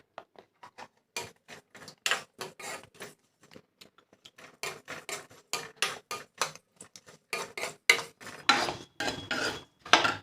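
A pan being stirred while puffed rice is fried for laru, a metal spoon scraping and clinking in uneven bursts that grow busier and louder toward the end, with no voices.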